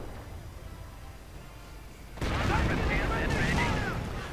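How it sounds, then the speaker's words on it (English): Rocket artillery fires in a Company of Heroes match, a sudden dense burst of booming launches and explosions that kicks in partway through and rumbles on loudly, with commentary talking over it. "Rockets going in there."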